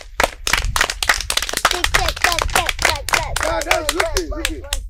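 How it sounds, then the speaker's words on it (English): Scattered sharp hand claps from a small group in a Yoruba drama scene, close and uneven, with voices talking over them as the clapping thins out toward the end. "A round of applause for her."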